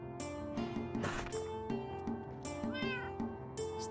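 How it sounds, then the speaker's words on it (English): A cat whines with repeated close, loud meows in a quick insistent series, several drawn-out cries over a few seconds. "Say, Cattail, stop whining."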